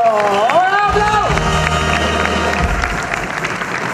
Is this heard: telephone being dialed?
no